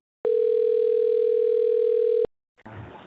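Telephone dial tone while a call is being placed, a steady loud single-pitched tone held for about two seconds that cuts off abruptly, followed by a short gap and faint line noise.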